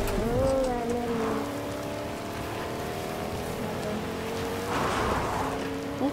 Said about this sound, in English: I'm gonna get in that car and drive.